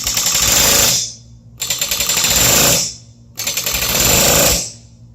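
A pneumatic rivet gun hammers a rivet in three short, loud rapid-fire bursts, each about a second long with brief pauses between.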